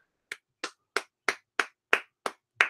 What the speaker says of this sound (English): Sorry, I should have warned you that I was going to clap there.